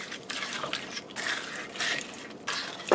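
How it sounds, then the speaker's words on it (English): Lumpy lima bean pot pie filling, thickened with flour and greased with bacon fat, is stirred in a cooking pot, giving repeated wet scraping and sloshing bursts at close range with short pauses between strokes. "let me stir this up"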